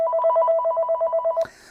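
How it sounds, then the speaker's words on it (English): A Panasonic cordless DECT 6.0 phone base rings with a fast electronic warble, a rapid trill of pulses that stops abruptly after about a second and a half, then a short click. "The ringtone of the base can be increased or decreased from here."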